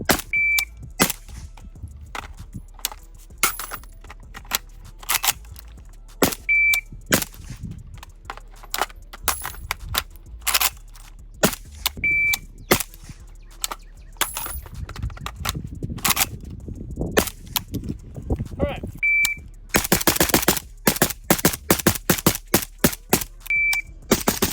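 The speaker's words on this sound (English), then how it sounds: "let's go ahead and get the last 100 or so rounds through this to see how it does" A PSA Krink rifle fires rounds as sharp, loud cracks, some spaced and some in fast strings near the end, with short electronic beeps recurring throughout between the shots.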